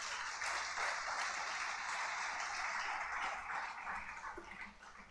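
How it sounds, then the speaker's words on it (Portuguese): Church congregation applauding during a worship service, sustained clapping that fades toward the end, moderately loud and reverberant. "Aplauda a Jesus."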